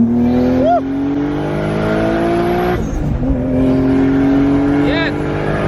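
A widebody single-turbo Toyota Supra accelerates hard from inside the car, its engine note rising through the gears with a sharp shift break midway, loud and close with a voice heard over it.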